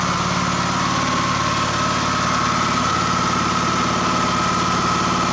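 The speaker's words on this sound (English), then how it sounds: "I've got the house circuit plugged into this generator. It's pushing about 700 watts, so you can hear it straining a bit there." A small gasoline generator powering a house circuit runs steadily under roughly a 700-watt load, a constant loud engine drone with a slight laboring, vibrating quality and no pauses.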